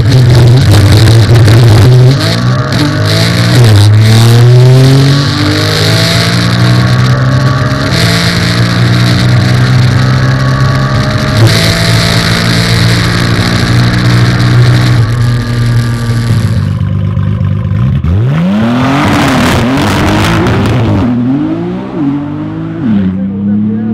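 A 1500 hp Nissan GT-R R35 accelerates hard with launch control on a top-speed run, its engine loud and near. Rising harmonics climb through several gear changes, and the roar peaks past 300 km/h before a brief drop and a renewed rev.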